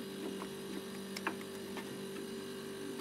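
A Climadiff wine cellar compressor hums steadily and faintly nearby, with a pipe touching the underside of a tray, plus a few light ticks and clicks scattered over the drone.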